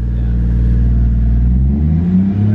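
A Toyota 1JZ engine in a car revs steadily and loudly up close, its pitch climbing toward the end as the revs rise.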